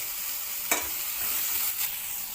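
Ridge gourd roasting in a pan gives a steady soft sizzle, with a couple of brief scraping stirs over the hiss.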